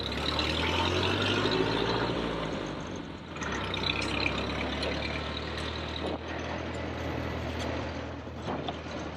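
An old truck with firm suspension and no shock absorbers drives along, its engine a steady low rumble with broadband road and rattle noise throughout, close and continuous.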